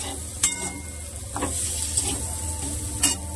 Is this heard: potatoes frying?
yes